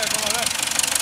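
A LOVOL 1054 tractor engine labours under heavy load while dragging concrete slabs, a steady loud rumble and knock with a voice briefly heard over it.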